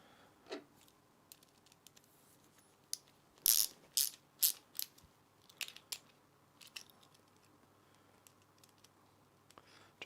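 Ratcheting clicks from tightening parts while assembling an Ortur Master 2 laser engraver: faint scattered ticks, then a cluster of sharper mechanical clicks mid-clip, with a few more after.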